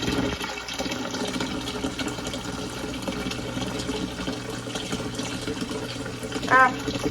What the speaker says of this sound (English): So once the water fills to that line